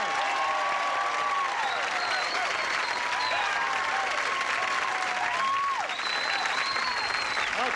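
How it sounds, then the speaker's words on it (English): A studio audience at a 1984 television game show claps steadily and loudly throughout, with whoops and cheers rising over the sustained applause as the stars are greeted. "Let's have a brisk round of applause."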